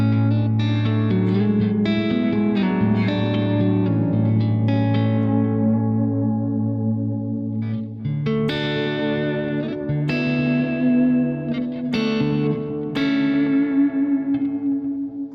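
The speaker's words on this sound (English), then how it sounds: "So those are the settings in the dual delay, and I think it does a really nice job." An instrument played through a dual delay effect: sustained, slightly detuned notes ring out with repeating echoes and a chorus-like shimmer, loud and continuous, with new note attacks every second or two over lingering tails.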